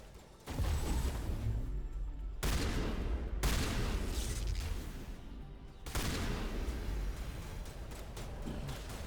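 Video game gunfire from Mass Effect comes in loud, dense bursts of rapid shots and booms, broken by brief pauses, close and forceful throughout.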